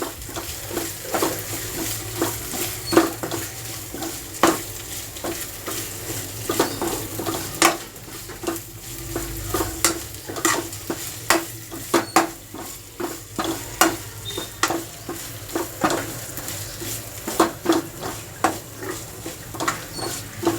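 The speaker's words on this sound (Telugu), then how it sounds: "ఈ ముద్ద మసాలా అనేది పచ్చివాసన పోయే వరకు అట్లా ఒక్కసారి కలియబెట్టేసుకుంటే" Masala paste frying in a pan for chicken fry, stirred with a steady run of sharp spoon scrapes and taps against the pan over a constant sizzle, with no talking.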